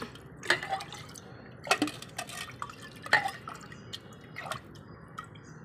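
Liquid plant tonic poured onto the base of a rose plant, a few distinct splashing pours in quick bursts with short pauses, close and soft.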